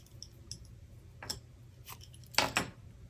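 Scissors snip through stamped paper leaves in a few short, crisp cuts, close and quiet, with the last pair of snips louder and quicker than the first.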